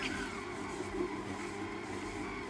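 A kitchen appliance kneads quiche dough at reduced speed, giving a steady, close mechanical motor hum that holds level without a break.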